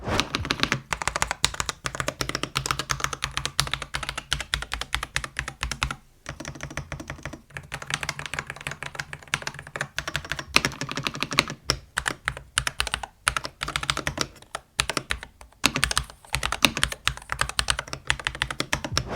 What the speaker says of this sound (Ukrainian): Можемо одразу послухати, як звучить дана клавіатура.